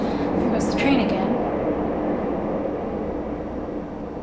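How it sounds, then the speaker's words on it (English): A train rumbles past outside as steady broadband noise through the whole stretch, swelling slightly near the start and then easing off, with a voice talking briefly over the opening second. "There goes the train again."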